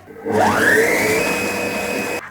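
Kitchen machine spinning up to speed 7 to blend halved lemons, a loud motor whir that rises in pitch, holds steady for about two seconds, then cuts off abruptly.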